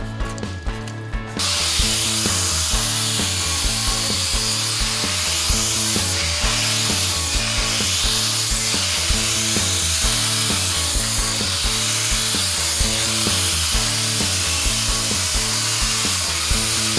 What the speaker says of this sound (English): we'll head on over here and finish it up with the grinder